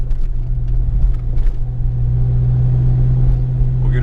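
Close, steady idle of a 1993 Ford Mustang Cobra fitted with a TKO600 transmission, a deep low rumble carrying a light rattling chatter, heard alone without talk.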